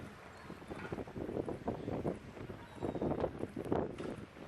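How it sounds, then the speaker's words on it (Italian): Strong sirocco wind blows across Chioggia, a steady gusty rush of broadband noise that swells and dips throughout, with no speech. "Soffia forte anche il vento."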